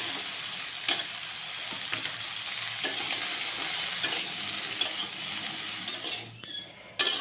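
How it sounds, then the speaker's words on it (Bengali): Chopped onions go into a frying pan already holding fried tomatoes and salt, a steady close sizzle carrying on throughout, broken by light scrapes and taps of a utensil, while cooking onion-stalk poppy-seed posto. "এবার দিয়ে দিচ্ছি কেটে রাখা পেঁয়াজগুলিটা।"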